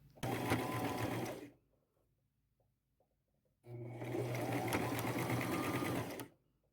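A sewing machine runs a zigzag stitch that attaches fringe around a thrifted dress, with two close, steady whirring bursts of about a second and a half and two and a half seconds, separated by a quiet pause.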